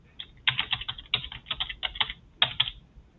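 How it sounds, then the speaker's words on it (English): Quick bursts of keystrokes on a computer keyboard, crisp clicking taps in irregular clusters with short pauses, close and alone without talk. "We're going to type in mail, mail.atu.edu, hit enter"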